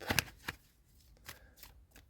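Tarot cards being shuffled by hand give a few close, crisp riffling bursts and soft slaps, irregularly spaced with quiet gaps between them.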